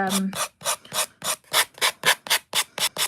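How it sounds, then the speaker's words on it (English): Steady back-and-forth rasping of sandpaper on the edge of a wooden door hanger, about a dozen short even strokes in a brisk rhythm, close up with no talking. "I think this edge needs that much sanding."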